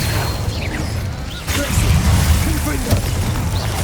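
Incendio fire spell cast in Hogwarts Legacy, a burst of whooshing flame and impact rumble from about midway, loud and close amid game effects, with no talking.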